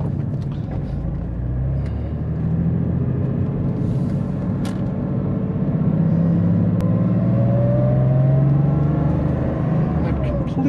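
A Porsche Carrera 3.2 engine drones steadily while driving, not yet fully warmed up, its low rumble and rising pitch holding loud and close throughout with road noise underneath.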